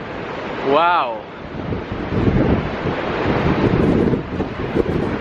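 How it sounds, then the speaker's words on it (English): Huge ocean waves break and surge loudly and continuously at a Barcelona beach, a deep roaring wash with wind buffeting the microphone, while a person exclaims briefly over it. "what huge waves for Barcelona"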